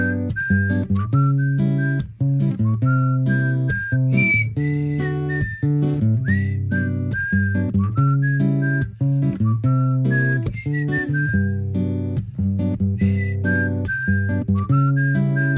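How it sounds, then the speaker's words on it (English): Loud, sustained melodic whistling dominates a TV commercial, bright continuous tones over steady background music with no gaps for talk. "That is loud whistling."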